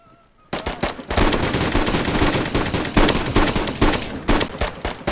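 Sustained automatic gunfire pours into a Hummer during a DayZ firefight, rapid loud bursts starting abruptly after a brief quiet moment and continuing densely without a break.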